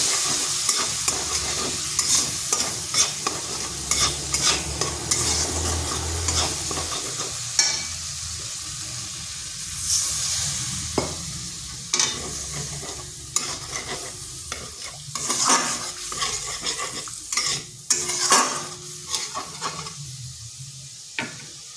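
Spice paste frying in a pan with a splash of water, stirred hard with frequent loud scraping clatters over a steady sizzle, close and busy.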